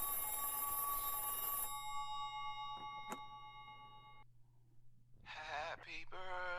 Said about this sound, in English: This bust up broken payphone that starts ringing